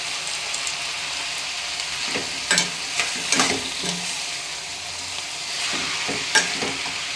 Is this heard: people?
no